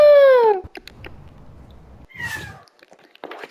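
A cartoonish cat in a Roblox game gives a loud, falling meow, followed after a pause by a second, quieter meow over soft background noise.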